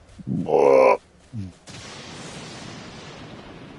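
Seagull in the survival video game Stranded Deep, giving a loud harsh squawk followed by a shorter second call, then a steady wash of ocean and wind ambience.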